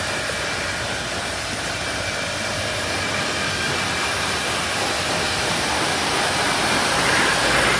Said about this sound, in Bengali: এখন আমরা বাইকটা পানি মেরে নিব, পানি মেরে লিকুইডটা বের করে দিব